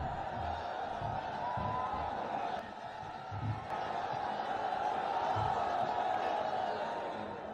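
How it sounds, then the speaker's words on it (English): Steady crowd murmur fills a cricket stadium during a one-day international between Bangladesh and Zimbabwe, a dense wash of many voices with occasional whoops and chuckles, continuous and fairly distant throughout. "Crowd building up slowly."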